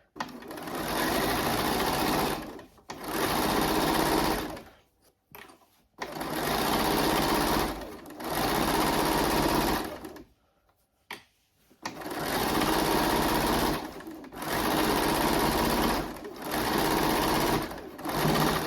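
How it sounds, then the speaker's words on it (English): A sewing machine stitches in long, loud, steady runs of rapid mechanical whirring while sewing all the way round a seam, stopping briefly between bursts, close up and with no talking. "And I'm going to take my stitch all the way round."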